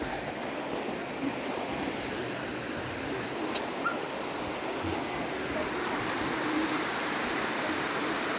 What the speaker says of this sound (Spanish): Está crecido el río, por eso no se pudieron meter al río